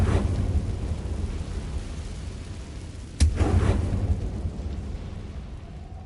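An explosive spell blast goes off in the Hogwarts Legacy video game: one sharp, loud burst about halfway through, rising from a steady rumbling background and trailing into a short, fading crackle.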